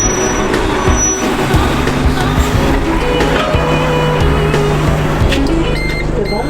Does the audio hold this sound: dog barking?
no